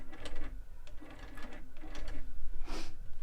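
Longarm quilting machine sewing a few tie-off stitches while binding a quilt, a quiet whirring mechanical rattle with soft rhythmic clicks and brief bursts of needle motion over steady motor noise.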